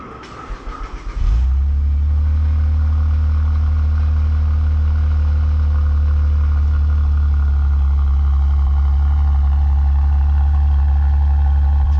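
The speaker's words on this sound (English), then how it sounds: "I want you to hear the exhaust note on a cold start" A Saab 9-3 TurboX cranks briefly and fires on a cold start, then settles into a loud, steady, deep exhaust drone at high idle, close up and unbroken.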